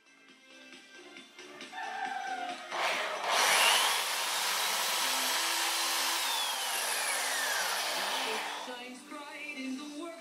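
A drill bores 2 mm pilot holes into wood strips for 3.5 mm wood screws: a loud, close, steady whine runs for about six seconds, framed by quieter handling sounds.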